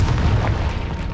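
The Confringo fire spell goes off in the video game Hogwarts Legacy with a loud, heavy boom. The low rumble fills the short blast and fades slightly at the end.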